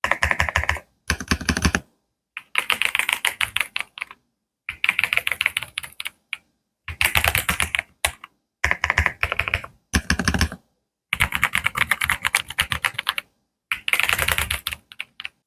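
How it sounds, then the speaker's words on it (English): Crisp clicks from a K75 Lite compact wireless mechanical keyboard in quick bursts of typing, separated by short silent pauses, close and clear. "And of course, I do like the click sound."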